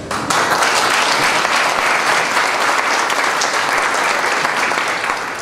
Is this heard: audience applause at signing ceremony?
yes